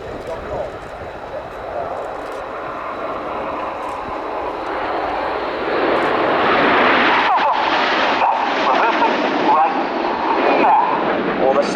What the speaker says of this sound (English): the delta wing planform of the Royal Air Force's multi-role combat aircraft